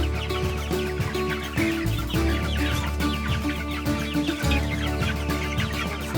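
Three-week-old meat chickens clucking together in a brooder, a dense continuous chorus of overlapping clucks and chirps, close and fairly loud, with no talking.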